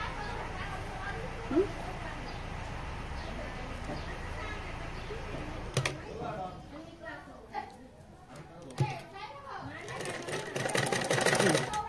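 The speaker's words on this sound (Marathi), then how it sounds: "याला असा या दिशेने असा किनारी फोल्ड करून टिप मारून घ्यायची" A sewing machine runs steadily, stitching along a folded fabric edge, a continuous close whirr with a pause and restart partway through, while people talk in the background.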